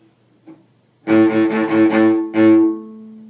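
A bowed string instrument plays a single sustained A in a short rhythmic pattern, four quick sixteenth-note strokes then a longer one, close and clear.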